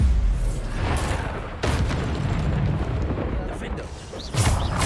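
In Hogwarts Legacy, the Bombarda spell sets off blasts heard as two loud booming bursts over a rumbling game soundscape, with a voice talking over it.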